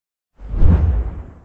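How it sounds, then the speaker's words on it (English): A single short whoosh sound effect for a push in a photo studio, a loud, close, low-heavy swish that swells and fades within about a second. "For the push, I used whoosh sound"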